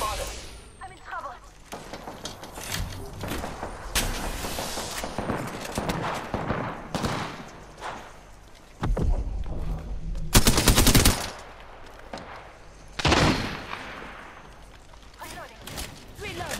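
Bursts of automatic gunfire and single shots in an Apex Legends battle royale match, loud and close, with sharp broadband blasts scattered between stretches of quieter game sound and occasional speech.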